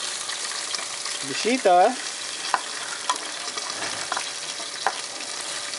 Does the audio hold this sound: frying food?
yes